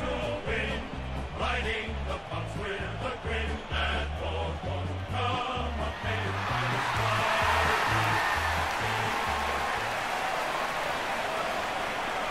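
A virtual stadium crowd in AFL Evolution cheers and roars as a broad, sustained wash of noise, swelling toward the end, with a commentator's voice heard over it early on.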